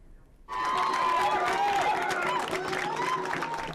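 A crowd at the Assembly of Manitoba Chiefs election erupts in loud, sustained cheering, applause and joyful cries the moment the new Grand Chief is declared, bursting in suddenly after a brief quiet and continuing steadily to the end.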